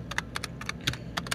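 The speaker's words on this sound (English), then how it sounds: "God, I type perfectly in this keyboard with this stupid fucking software issues." Quick bursts of typing on a computer keyboard, several rapid clusters of close, crisp key clicks with short pauses between them.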